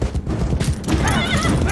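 A horse whinnies loudly in a Game of Thrones fight scene, its rising, wavering neigh cutting through a dense bed of clattering and rumbling background noise.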